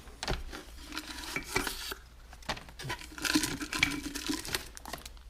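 Protective wrapping crinkles and tears as it comes off new engine parts for a Farmall Super M, a busy close-up rustle with scraping and crumpling bursts, steady and moderately loud.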